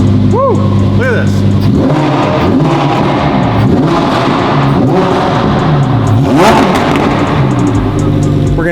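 A 2021 Lamborghini sports car engine revs loudly up close in repeated sharp surges that climb and fall in pitch, with excited voices talking over the engine.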